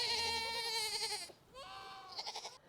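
Goats bleat in two long, wavering calls, the first loud and drawn out, the second shorter and shakier, with no talking.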